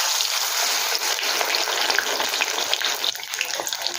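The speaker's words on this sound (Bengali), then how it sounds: "একইভাবে আরও একটা লাউ পাতা ব্যাটারে ডুবিয়ে তেলের মধ্যে ছেড়ে দেবো।" A battered bottle gourd leaf fries in hot oil, giving a steady, close bubbling sizzle with faint crackles and stirring scrapes, no voices.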